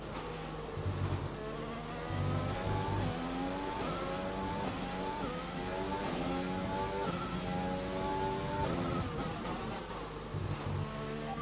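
Formula 1 car engine in the racing game F1 2020, a high, buzzing whine that steadily climbs and drops through gear changes, sustained and fairly loud throughout with no talk.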